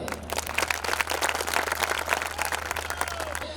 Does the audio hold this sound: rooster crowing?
no